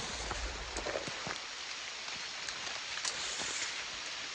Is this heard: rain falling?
yes